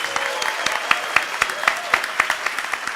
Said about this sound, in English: Can we just get a round of applause for amazing panelists?